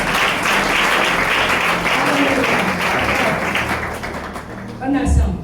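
A church congregation applauds and cheers in acclaim of Jesus, sustained dense clapping with voices mixed in throughout, rising again briefly at the end.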